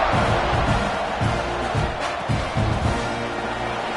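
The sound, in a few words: stadium crowd cheering before a college football kickoff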